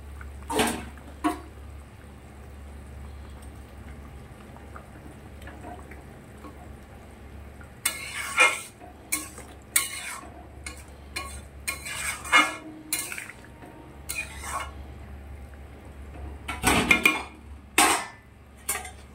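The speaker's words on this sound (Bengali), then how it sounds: "এবারে মাছগুলো দিয়ে দিচ্ছি" Pieces of katla fish go into a simmering fish curry of potato and pointed gourd, with a soft low bubbling underneath and bursts of clinks, splashes and spoon scraping against the pot through the middle and near the end.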